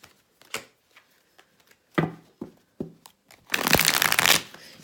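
Tarot cards shuffled during a card reading, a series of quick crisp riffles and taps building to a dense, louder flurry of flicking cards near the end, heard close with no voice.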